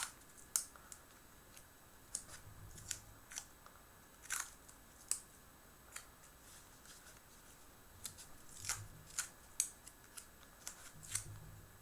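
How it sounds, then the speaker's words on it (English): Tissue tape is torn and pressed down onto curled art-journal paper, giving a steady run of faint, crisp tearing and tapping snaps over a soft background hiss. "I'm just using a little bit of tissue tape."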